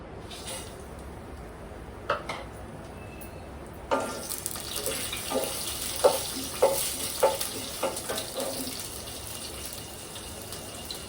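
After a few quiet seconds of scattered clinks, a loud sizzle bursts in as spices hit hot oil, crackling and popping steadily close by.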